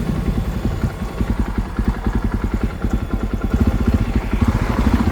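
Jawa Bobber 42 motorcycle engine during a slow turnaround, a close, loud, thumping exhaust beat with a steady low rhythm that picks up slightly toward the end, with no talking.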